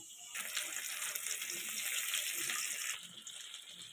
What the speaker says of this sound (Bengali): মাছগুলো আমি একটু লাল করেই ভেজে নিলাম